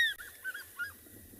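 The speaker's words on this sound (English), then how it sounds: "I hope that fish eagle call is coming through. It must be. It's quite loud." An African fish eagle calls at a safari sunrise, a clear, ringing yelping cry with a few repeated notes, moderately loud and carrying over quiet background.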